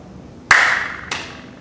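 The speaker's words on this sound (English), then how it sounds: "And we come up and we clap our hands together." A pair of sharp, loud hand claps about half a second apart, each with a bright ringing decay in a quiet room, struck as a self-defence move.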